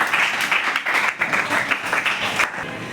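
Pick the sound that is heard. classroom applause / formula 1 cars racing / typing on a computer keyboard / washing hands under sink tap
classroom applause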